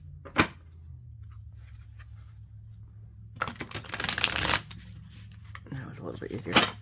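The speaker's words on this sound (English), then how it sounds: "I'm going to do one more shuffle and we're going to go." A deck of new cards being shuffled, a brief riffle at the start, then a longer, louder riffle-and-bridge flurry in the middle and more shuffling near the end, with a person talking in between.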